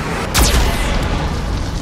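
Geth cannon fire bursting in the sci-fi video game Mass Effect 2: one sudden, loud blast with a sweeping whoosh, set over a steady background hum, and no voices.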